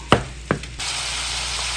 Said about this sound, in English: My ground beef is sizzling quite well